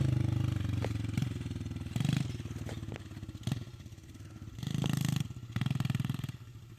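Small pit bike engine running close by, a buzzy idle that rises and falls with several short revs and throttle blips, clattering between bursts.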